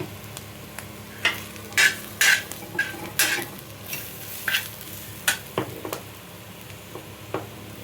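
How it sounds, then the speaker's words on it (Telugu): Turmeric sizzling in a hot oil tempering for egg chaat, stirred with a spoon in a steady hiss broken by about a dozen sharp scraping clinks against the pan, close and fairly loud, no voices. "పసుపు తాలింపులో వేగుతుంది చూడండి"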